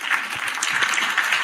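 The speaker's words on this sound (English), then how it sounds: "You got the applause there." An applause sound effect plays as a short burst of dense, even clapping, bright and steady throughout with no voices.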